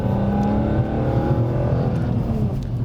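The 3.2-litre BMW S54 straight-six engine of an E46 M3 revs hard and steady toward 8,000 RPM, a loud throaty mechanical growl heard up close without any talking.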